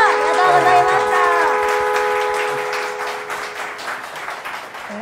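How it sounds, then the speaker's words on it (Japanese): Large audience at a Suzuka 8 Hours pre-race talk show in a Kyoto hotel gives a loud, sustained burst of clapping that slowly fades, with a voice speaking over it and tonal music lines at the start. "皆さん今一度大きな拍手でお送りください。"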